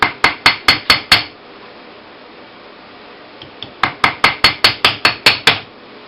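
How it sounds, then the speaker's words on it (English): Rawhide mallet strikes a metal ring on a mandrel: a quick series of six sharp, ringing taps, a pause with two faint knocks, then about eight more evenly spaced blows, close and loud with no talking. "I'm going to be hammering on the surface that's the final surface"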